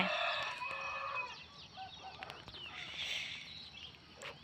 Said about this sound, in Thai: ทุกคนได้ยินเสียงไก่ขานได้ยินเสียงนกร้องไหม